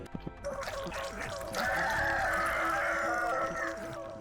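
A giant chicken in the point-and-click horror game Bulb Boy clucks amid game music and effects, a sustained fowl-like cackle swelling loud for a couple of seconds.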